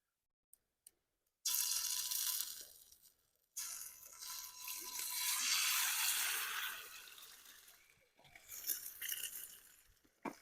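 An egg dropped into a hot pan over a campfire in northern Nova Scotia, with bursts of loud hissing sizzle that swell and fade amid a few clinks.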